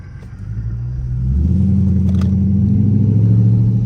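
Dodge Charger RT engine pulls hard on a late-night drive, a loud, close, deep rumble that swells and climbs in pitch as it accelerates, with no talking over it.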